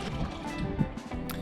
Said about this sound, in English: Pour in half of your water first.